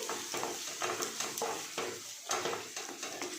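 Ground coriander-cumin powder stirred into gathiya curry in a pan, with repeated scraping strokes of a spoon against the pan over a steady sizzle of frying.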